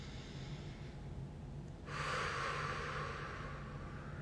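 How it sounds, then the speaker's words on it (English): A single deep, steady breath for relaxation, a long airy inhale or exhale that swells midway and holds over a low background hum, close and fairly quiet with no talking. "just taking some big, deep breaths"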